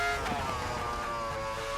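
A modern Formula 1 car fitted with a V10 engine in a racing video game, revving hard with a steady high-pitched engine whine and gear-change shifts, close and continuous throughout.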